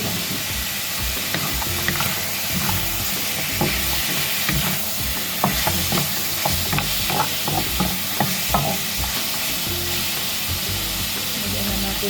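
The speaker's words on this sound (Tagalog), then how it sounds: "sangkutsa natin saglit ang ating spare ribs" Spare ribs sautéing in a pan, a steady close sizzle and frying hiss with occasional stirring clatters, continuous without talk.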